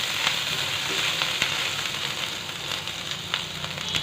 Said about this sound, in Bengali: এখন আদা কুচি আর রসুন কুচিটা দিয়ে দিব।